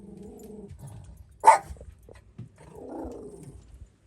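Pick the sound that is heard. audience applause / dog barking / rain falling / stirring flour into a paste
dog barking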